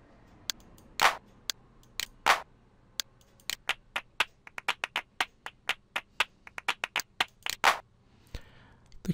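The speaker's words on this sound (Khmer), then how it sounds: "នេះសំឡេងទះដៃ" A synthesized handclap sample from a drum machine in music software, played as a series of sharp, dry claps in an irregular rhythm, close and clear with no other sound around them.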